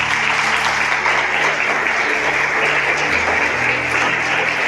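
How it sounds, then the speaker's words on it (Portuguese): Church congregation applauding during a Portuguese-language worship service, loud dense clapping sustained evenly from start to finish. "Você pode aplaudir ao Senhor?"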